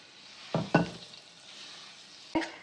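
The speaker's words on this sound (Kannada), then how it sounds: "ಅದಕ್ಕೊಂಚೂರು ತುಪ್ಪ ಹಾಕ್ಬಿಟ್ಟು ಅದನ್ನು ಒಂಚೂರು ಫ್ರೈ ಮಾಡ್ಕೊಳ್ತಾ ಇದ್ದೀನಿ" A sticky fig paste fries in ghee in a pan and is stirred, with a few short scraping, sizzling strokes over a quiet background.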